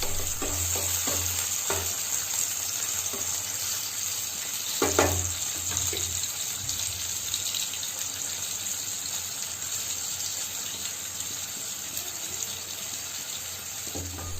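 Tomatoes and onions with salt stirred in a frying pan for a prawn and mustard seed dish, a steady sizzle running throughout with occasional spoon scrapes and one louder clatter midway, no voices.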